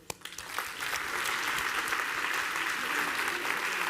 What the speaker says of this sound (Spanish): pidiendo el aplauso de todos